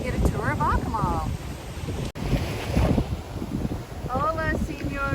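Strong wind gusting at the coast in Akumal, Mexico, with a loud roaring rush and microphone buffeting throughout. Short bird-like chirps break through near the start and end.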